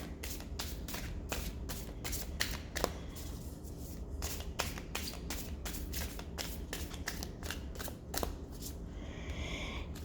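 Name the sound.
shuffling a new deck of cards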